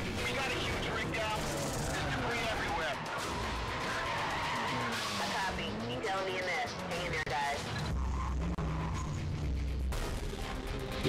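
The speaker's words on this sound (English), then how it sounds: "I spun out then, I was meant to spin out" Mitsubishi Evo skidding and spinning out in a racing video game, a loud continuous tire screech and engine roar that runs throughout with shifting pitch, other game noise and speech mixed in.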